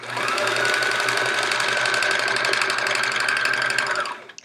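A sewing machine runs steadily, stitching improvised chevron quilt pieces with a dense, even whirr that holds at a close, loud level for about four seconds before stopping.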